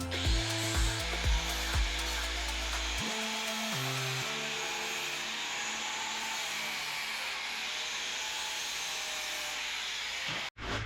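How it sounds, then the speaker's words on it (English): An angle grinder fitted with a flap disc smooths the inside of a notch cut in metal tube, a steady grinding whine running almost continuously after a brief start-up, with a short cut-out near the end. "you're gonna take the grinder with a flap disc on it and just smooth that out"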